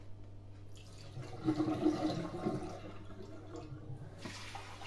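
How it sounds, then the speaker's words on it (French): Water rinsing through the dirty-water tank of an Ultenic AC1 Elite, a close swirling, gurgling pour that swells in the middle and then eases, with a faint steady hum beneath. "Et vous avez juste à passer un petit coup d'eau pour rincer."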